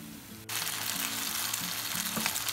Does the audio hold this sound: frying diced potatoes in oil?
yes